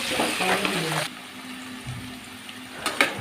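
Chopped onion with a pinch of salt frying in hot oil for a chicken jhol, a steady broadband sizzle that is loud at first, then thins out and continues quietly, with a few stirring clatters near the end.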